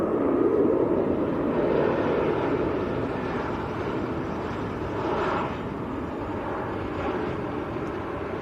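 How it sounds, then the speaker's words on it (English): A Ryanair Boeing 737 Max arriving at Manchester Airport from Gothenburg produces a steady, broad, rumbling roar, moderately distant, that swells slightly and then eases, with no voices. "The Ryanair Max."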